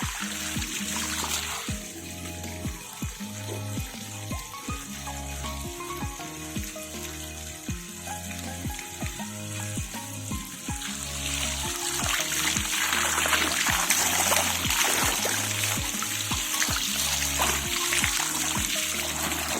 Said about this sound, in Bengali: জল দিতে থাকলে গাছের যে উপরে নোংরাটা আছে সেটা চলে যাবে গিয়ে জলটা আরও পরিষ্কার হয়ে যাবে